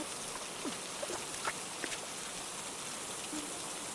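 Steady rain falls as a constant soft hiss, with a few brighter drips and drops landing nearby at irregular moments.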